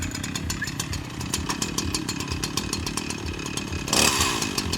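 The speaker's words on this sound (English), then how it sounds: "At least we know the chainsaw isn't a yo-yo." A chainsaw engine at a lumberjack show runs loud and steady close by, with rapid revving pulses and a harsher burst of throttle near the end.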